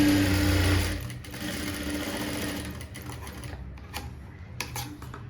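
A sewing machine stitches a blouse front, running steadily and loudly for about a second, then continuing in quieter, uneven bursts of stitching with no talking.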